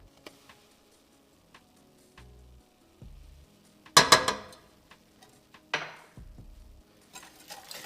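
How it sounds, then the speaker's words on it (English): Whisk or spoon clattering and scraping in a pot as egg yolks, sugar and milk are stirred, two short bursts of brisk clinking among quiet ticks and taps, close and without talk. "give that a good stir to break down the sugar and the eggs"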